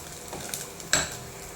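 Cooked breadfruit being stirred into fried onions in a pan: a couple of soft, brief spoon scrapes and clinks against the pan over a quiet background, with no talking.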